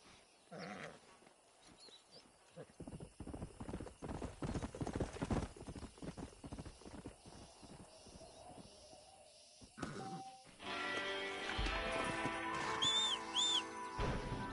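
Horse hooves clip-clop in a steady trotting rhythm for several seconds in Red Dead Redemption, then give way to a louder, sustained tonal wash.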